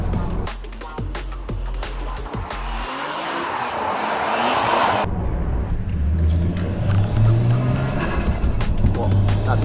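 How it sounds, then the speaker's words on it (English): A stock Nissan Skyline R33 GTST with a turbocharged engine revs hard, its engine note rising and falling loudly, with tire squeal and turbo whoosh mixed in, close by, and voices talking over parts of it. "the turbo sound from this car is unreal"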